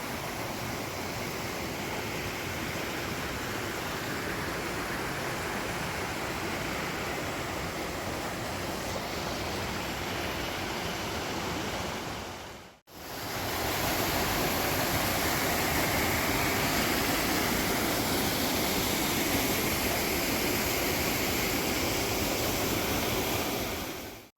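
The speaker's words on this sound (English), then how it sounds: "every corner you turn around has got a a fresh waterfall with it" A waterfall pours on a hillside climb near Dunoon in October, a loud, unbroken rush of falling water filling the whole sound, briefly cut in the middle, with no talk.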